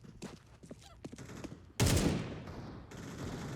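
Gunfire in the video game Counter-Strike 2, a few scattered shots followed by a sudden loud burst of rapid fire that trails off, under faint background game noise.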